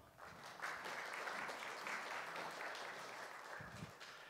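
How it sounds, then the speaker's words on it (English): Congregation applauding at a church service, a steady, fairly loud round of clapping from many hands that holds for several seconds before tapering slightly. "Let's give them a round of applause."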